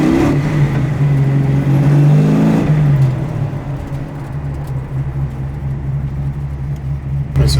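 A naturally aspirated muscle car engine growls loud and close, revving high at first, then settling into a lower, steady idle rumble.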